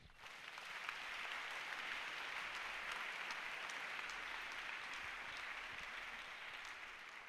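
A church congregation applauds together in a steady, dense wash of clapping that holds evenly for several seconds, with no talk over it.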